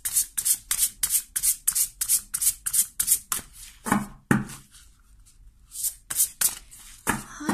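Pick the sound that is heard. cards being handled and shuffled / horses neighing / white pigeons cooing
cards being handled and shuffled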